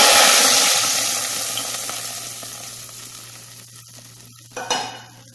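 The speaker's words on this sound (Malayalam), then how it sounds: "അങ്ങനെ ജീരകം മൂത്ത് കഴിഞ്ഞാൽ നമുക്കിനി നമ്മുടെ സൂപ്പിലേക്ക് ഒഴിച്ചു കൊടുക്കാം" A cumin tempering pours into drumstick soup with a loud hiss that slowly fades, followed by a brief splashing clatter near the end, no speech.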